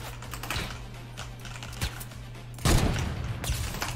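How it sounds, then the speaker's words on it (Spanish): Gunfire in the video game Fortnite: a rapid run of sharp clicking shots, then a louder burst of fire near the end, all without talk. "¿Desde dónde me están disparando?"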